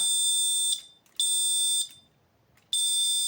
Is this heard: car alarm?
yes